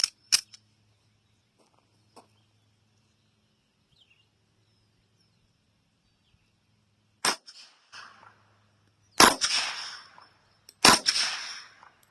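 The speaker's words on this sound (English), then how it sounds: "P32, top right target, 5 rounds of 71 grain PPU factory loaded ball ammunition." Gunshots from a Kel-Tec P32 pistol firing 71 grain PPU factory ball ammunition outdoors: sharp loud cracks at intervals, a single shot early and a cluster of reports near the end, with near silence between.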